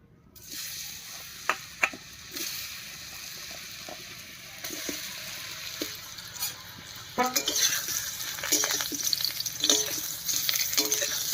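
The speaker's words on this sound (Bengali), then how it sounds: "এবার কড়াইতে তেল দিয়ে হালকা করে ভেজে নেব" Seasoned taro and potato pieces frying in oil in a wok, a steady sizzle with scattered spatula taps that grows louder and busier in the second half.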